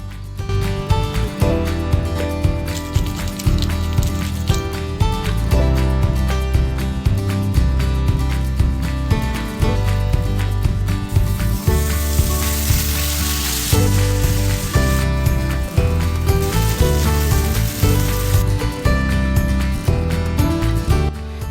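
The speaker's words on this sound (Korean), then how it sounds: "돼지고기 다짐육에 두반장, 맛술, 간장, 굴소스, 설탕, 라유까지 넣어서 볶아줄게요" Ground pork stir-fries in a hot pan with doubanjiang, mirin, soy sauce, oyster sauce, sugar and chili oil, a loud steady sizzle with periodic scraping bursts of stirring throughout.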